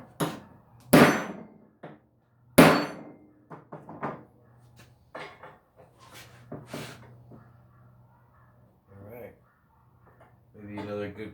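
Sharp metal whacks from a hammer striking a metal drift trike part built from a Honda Express, two loud hits early and then lighter knocks and clatter, with talk in the workshop between them.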